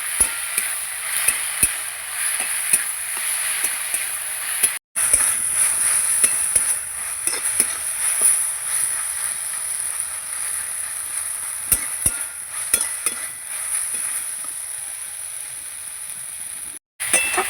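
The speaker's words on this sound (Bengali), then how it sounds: "এবার আমি পাট শাকটাকে সুন্দর করে ভেজে নেব।" Jute leaves frying in a pan, a continuous hissing sizzle with scattered light clicks and scrapes of stirring, close and steady with two brief dropouts.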